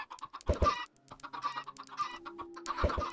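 Chickens on a Minecraft server cluck in several short, close bursts of game-style clucks, with brief quiet gaps between them and no one talking over them.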